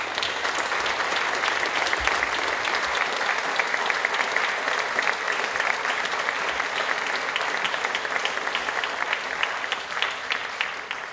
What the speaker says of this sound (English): can we just give a quick round of applause for